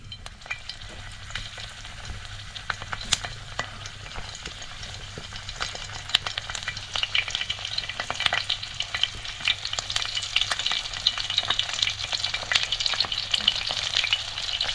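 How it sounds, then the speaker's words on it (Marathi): Halved bell peppers sizzle cut side down in hot oil in a pan, a steady close crackling fry with spitting pops that grows gradually louder and denser, with no talking. "तेल तापलंय आता आपण ह्याच्यात भोपळी मिरची ठेवूया"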